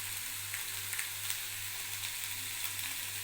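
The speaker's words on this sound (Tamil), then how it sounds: "வெங்காயம் வதங்கிறதுக்கு நான் லைட்டாக பொடி உப்பு சேர்த்து வதக்கிக்கிறேன்." Onions sautéing with a pinch of salt in a pan, a steady soft sizzle that holds throughout with faint stirring clicks and no talk.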